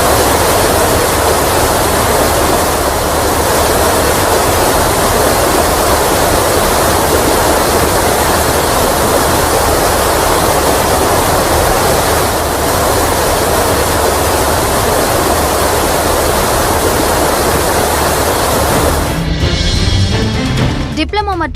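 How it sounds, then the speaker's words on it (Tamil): A waterfall in Guizhou province, China, runs at its highest flow of the year, about 489 cubic metres per second, with a loud, roaring torrent of water that rushes continuously, then cuts off abruptly near the end. "சீனாவின் குய்ஷு மாகாணத்தில் உள்ள யுவாங்ஷு நீர்வீழ்ச்சியில் அபாயகரமான அளவில் தண்ணீர் பெருக்கெடுத்து ஓடுகிறது"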